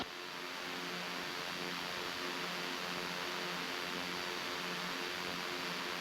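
A Piper PA30 twin-engine aircraft at takeoff power gives a loud, steady, unbroken roar with a droning harmonic hum underneath, constant throughout.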